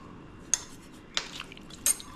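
A spoon stirring salt into raw chicken marinade for butter chicken gives three sharp clinks against a bowl, spaced out over a quiet background, close and crisp.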